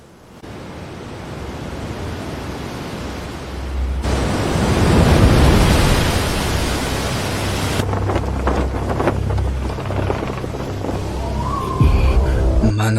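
Sea waves roll in with a broad, loud wash of surf and wind noise that builds and recedes, a steady roar without voices.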